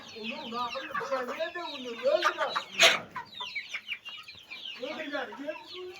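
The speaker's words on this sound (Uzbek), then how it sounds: "Mana jo'jamiz." Young chicks clucking and peeping close by, a busy cluster of short calls with a sharper squawk partway through.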